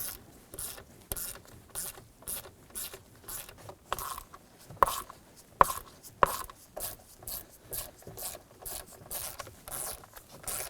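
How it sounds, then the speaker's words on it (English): A stubby ratchet fitted with a 7/32 socket loosens the steering column cover screws on a 2015-2020 Ford F-150, giving a steady run of quiet, close pawl clicks in repeated bursts with a few sharper knocks. "We're going to use a 7/32 socket with our stubby ratchet to go ahead,"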